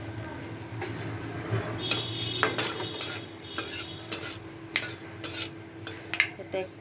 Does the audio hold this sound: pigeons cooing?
no